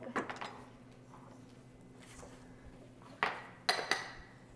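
Spoon clinking and scraping against a pot while rice and salt are stirred, a few sharp metallic knocks at the start and several louder clanks near the end over a low steady hum.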